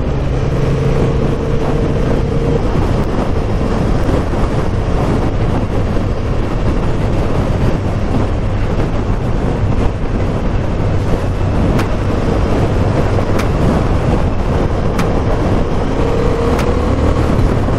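A CB750 Hornet motorcycle gives a steady engine roar with wind buffeting throughout, the motor note rising gradually as the bike picks up speed; no talking.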